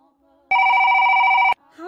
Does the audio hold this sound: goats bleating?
no